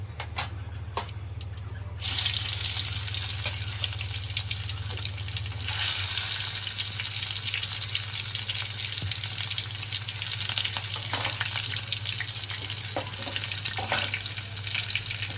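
Onion, tomato, garlic, green chilli and curry leaves are dropped into hot oil in a pan for a tempering. After a quieter start the sizzle jumps to a loud, steady frying hiss, with faint stirring clicks and no talking.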